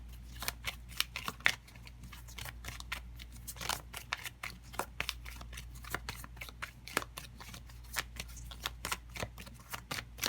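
Tarot cards being shuffled in quick, steady riffles and flicks, a dense run of crisp papery snaps across the whole stretch with no talking.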